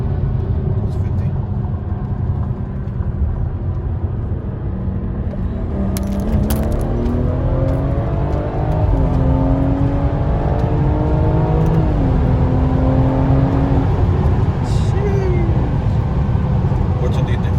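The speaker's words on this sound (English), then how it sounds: "Rolling anti-lag puts you right where you need to be compared to brake boosting" Turbocharged B58 inline-six in a BMW F30 accelerating hard with Bootmod3 rolling anti-lag, a loud rising engine drone with stepped gear changes under steady cabin road noise while people talk.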